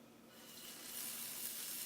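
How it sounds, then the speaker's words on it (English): Hissing sizzle of scallops frying in a hot pan, starting softer and swelling louder about halfway through, steady and close. "that sizzle's the sound that we want"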